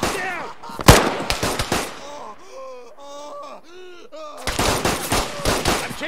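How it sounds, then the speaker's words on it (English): Rifle shots crack at the start in a quick, loud volley. Strained wailing voices follow, and then another burst of sharp gunfire. "Shooting!"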